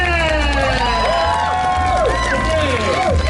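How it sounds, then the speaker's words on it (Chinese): Crowd cheering and clapping at an outdoor evening arts festival concert at the Anping sunset viewing platform in Tainan, a steady loud roar of applause with whoops and shouts rising above it, sustained throughout. "掌声来热情"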